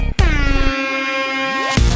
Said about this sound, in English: we get a hilarious combo breaker in the shape of an air horn, of all things.